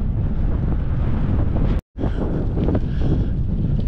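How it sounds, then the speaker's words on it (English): Strong crosswind roars across the microphone while cycling on a bikepacking ride through Spain, a loud, continuous buffeting rumble that cuts out for a moment mid-clip before surging back. "And the crosswind is just insane."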